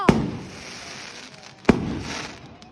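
Fireworks go off outdoors in two sharp, loud bangs about a second and a half apart, each leaving a crackling, hissing tail that fades between bursts.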